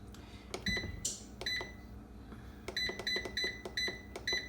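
An air fryer's control panel beeps as the mode and time are set: a series of short, sharp electronic beeps in quick irregular bursts, close and clear in a quiet kitchen.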